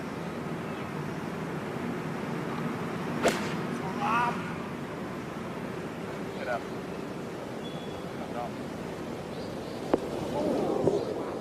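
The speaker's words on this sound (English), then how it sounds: "you can hear how firm these greens are, and that one probably woke some folks up" A golf ball lands on a very firm green at the 2017 PGA Championship with a sharp, hard smack, followed later by a second crisp impact, both heard over steady wind and a low crowd murmur.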